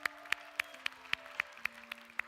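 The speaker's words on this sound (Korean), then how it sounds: "박수 할까요?" Applause from an audience at a church youth worship service, congratulating two teachers on their upcoming wedding. It comes through as faint, evenly spaced claps, about nine sharp beats in steady rhythm over a low background hum.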